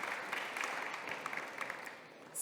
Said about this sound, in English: So a round of applause for her accomplishment as well.